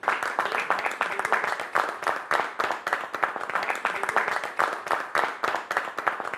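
Crowd applause at a company bonus function: dense, continuous clapping from many hands that rises and falls slightly over several seconds, with some voices faintly underneath.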